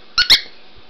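A squeaky rubber dog toy ball squeezed twice in quick succession, two sharp, loud, close squeaks followed by quiet.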